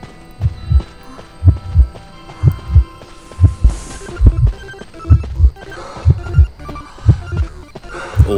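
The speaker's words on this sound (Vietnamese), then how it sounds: "nghe tim đập mà sợ dã man luôn ấy" Heartbeat effect in the Identity V game, loud, steady paired thumps repeating about once a second, with faint electronic game tones and chimes behind them and no speech.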